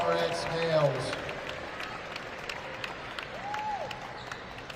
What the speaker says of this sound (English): Big round of applause for our RX males.